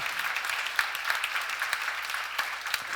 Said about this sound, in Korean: 우리 교회 멋있는 교회가 몇시 박수 한번 쳐요.